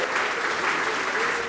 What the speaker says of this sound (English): Big round of applause for Ellie.